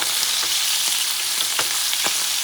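Chicken pieces frying in a pan, a steady loud sizzle throughout with a few faint scraping and stirring clicks mixed in.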